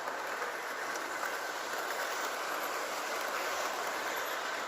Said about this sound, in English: They slow down massively, and it's something to do with the track on the way up.